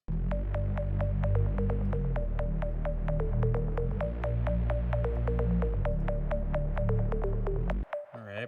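A synth plays a quick repeating melodic pattern drenched in heavy reverb and echoing delay, notes smearing into a wash before cutting off abruptly.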